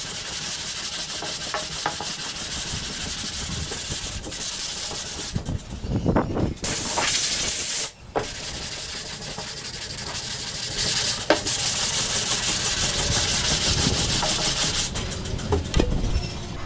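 Hand block sanding of primer on a 1963 Impala body panel with a straight block: a steady, close, continuous rasping scrub that runs for the whole stretch with only brief pauses and no talking.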